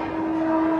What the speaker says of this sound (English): Train's not stopping.